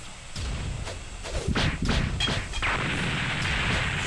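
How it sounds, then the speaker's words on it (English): Explosions in the My Hero Mania game, a series of thumping blasts and whooshing bursts over a loud continuous rumble, with no talking. "What is going on? I hear explosions."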